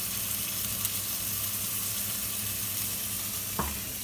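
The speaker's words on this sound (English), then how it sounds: "you can hear that sizzle now" Cajun-seasoned chicken frying in a hot pan, a steady close hiss of sizzling fat that runs unbroken, with one brief clink near the end.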